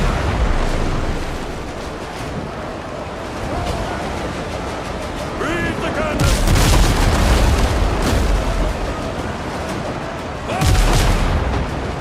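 Ship cannons firing a broadside in Windrose, heavy booming volleys over continuous sea and wind noise, with two big loud bursts standing out and a person talking at times.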